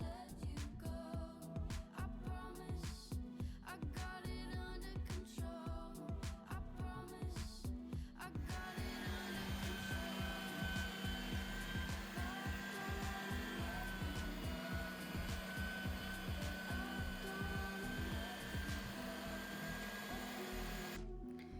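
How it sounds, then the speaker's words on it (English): An electric meat grinder mincing meat gives a loud, continuous motor drone that runs the whole time, its tone shifting after the first few seconds, with no voices over it. "Right now we are mincing some of the meat, and trust me, that machine is loud."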